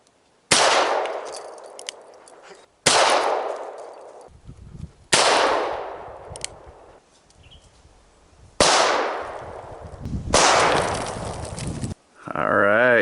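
Five sharp, loud pistol shots ring out outdoors during sighting in, each followed by a long decaying echo, spaced a couple of seconds apart. A brief warbling tone follows at the end.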